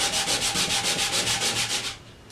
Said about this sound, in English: rough up your surface. And I'm using 60 grit because it's going to create a lot of sawdust.